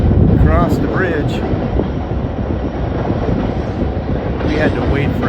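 A freight train thunders across a bridge over the Illinois River near Grafton, a steady loud rumble with rail clatter lasting throughout, while people talk over it.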